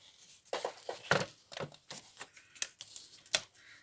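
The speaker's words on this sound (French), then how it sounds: "Là, on va couper en biais comme ça." Paper being cut at an angle with scissors, a close, quiet run of crisp snips and rustles in an uneven rhythm, alone with no talking.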